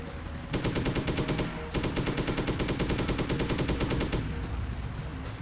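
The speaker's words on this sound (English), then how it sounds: "We'll take it out with a machine gun because we're more likely to hit." Rapid machine gun fire from the video game Hitman: Codename 47, two loud sustained bursts of fast rhythmic shots with a brief pause between them.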